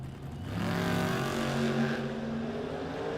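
A Mustang drag racing down the strip at a spring drag event, its engine roaring loud and sustained as it accelerates, the pitch climbing through gear changes before settling into a steady high-rev drone.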